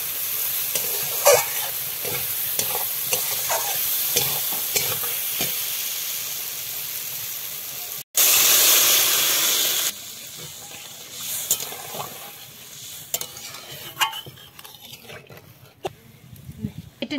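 Egg and lentil curry stirred in a pan with potatoes, sizzling and scraping steadily at close range, then a sudden loud rush as water is poured in around the midpoint, followed by quieter bubbling and occasional utensil clicks.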